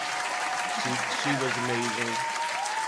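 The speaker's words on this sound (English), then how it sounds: "Let's clap it up for her." Show audience clapping for a guest co-host, continuous applause held under a voice speaking briefly in the middle.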